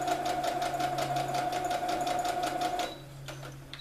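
A sewing machine stitches down a fabric seam in a fast, steady mechanical rattle at close range, running continuously for a few seconds before slowing and easing off near the end.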